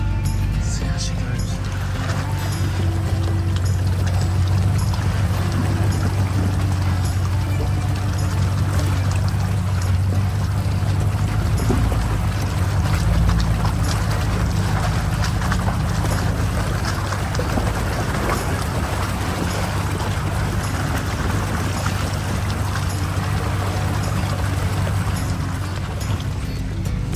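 A four-wheel drive fords the Pentecost River on the Gibb River Road, with water sloshing and pouring around it against a low steady engine rumble, constant and close throughout.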